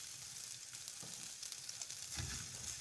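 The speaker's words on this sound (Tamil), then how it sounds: "நல்லா வதக்கி விடணுங்க." Garlic and asafoetida sizzle softly in a pan as a tempering for garlic rasam, a steady faint frying hiss with a slight stir near the end.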